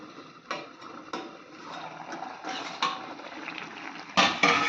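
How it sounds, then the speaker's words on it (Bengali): Metal pot and utensil clatter from leafy greens (shak) being reheated in a pot in a home kitchen: scattered clanks and scrapes over a low steady background, moderately close, no voices. "এই যে এখন শাকটা এদিকে গরম করে নিচ্ছি"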